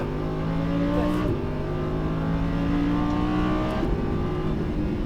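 A Lamborghini Huracán on the Fay de Bretagne race track drones loudly from inside as it accelerates, its engine tone climbing and then dropping briefly at two gear changes.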